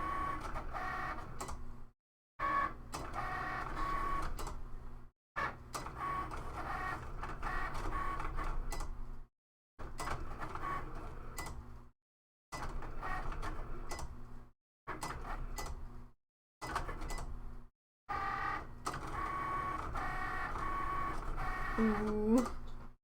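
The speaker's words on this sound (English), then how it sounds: "And then the Cricut will take over." A Cricut cutting machine cuts stickers in repeated motorized runs of several seconds each, separated by short pauses, steady and fairly close.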